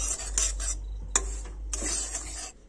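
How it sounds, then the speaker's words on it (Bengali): Dry semolina is stirred in a dry wok over low heat, the spatula scraping in repeated raspy strokes with short pauses and one sharp clink, close and fairly quiet with no talking. "হালকা আঁচে সুজি লাল করে একটু ভেজে নিতে হবে।"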